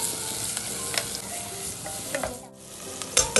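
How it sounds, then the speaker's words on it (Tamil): Onions, tomatoes, mint and coriander sizzle in a pan for a veg drumstick biryani, with a spatula scraping and stirring in steady strokes over a constant frying hiss. "சேர்த்து இந்த வெங்காயம் தக்காளி எல்லாமே நல்லா குக் ஆகிற வரைக்கும் வதக்கிடலாங்க"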